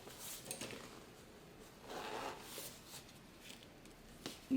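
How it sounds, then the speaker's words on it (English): The zipper pull on a fabric tote bag is slid along, giving faint, close rustling and scraping that ends in a small click. "Need to move my zipper pull."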